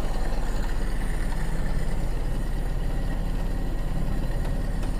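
A Toyota Kijang Super carburetor engine running steadily with a low, droning idle, loud and close, with no clear rise in revs.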